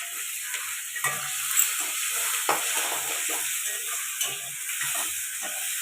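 Large-cut onion pieces frying in a hot pan give a steady, close sizzling hiss with soft stirring clicks scattered through it. No one speaks.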